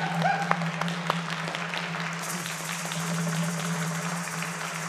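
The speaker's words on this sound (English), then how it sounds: "And let us applaud Atabe and Yokahu." A church congregation applauds steadily during a Sunday service, with scattered cheers and voices mixed into the clapping throughout.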